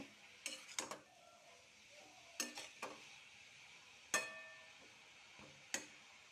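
Potatoes with cumin and coriander powder are stirred in a pan, heard as a handful of sharp metallic clinks and scrapes of a spoon against the pan, spaced irregularly over a faint, quiet background.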